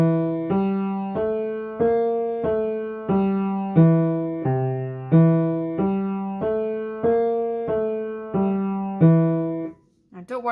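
Walking bass line on piano, played as a steady stream of evenly spaced low notes, each struck cleanly and decaying, close and clear with no talking, stopping abruptly near the end.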